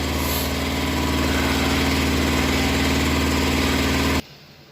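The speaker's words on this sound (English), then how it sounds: "Pause you till that compressor's done." An air compressor runs loud and steady with a droning, throbbing hum, then cuts off abruptly near the end, leaving a faint background.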